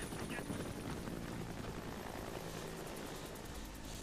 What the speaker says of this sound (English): Got a helicopter out to try and kill me